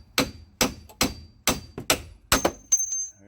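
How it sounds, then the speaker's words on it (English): A small sledgehammer knocks out strut bolts on a 2001-2007 Dodge Grand Caravan, about eight sharp, ringing metal strikes in uneven rhythm, loud and close, with a short metallic ring after the last blows. "Now we want to get these bolts out, so we're going to take our small sledge."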